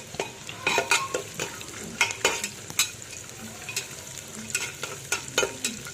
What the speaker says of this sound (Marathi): हे पण चांगलं परतून घ्यायचं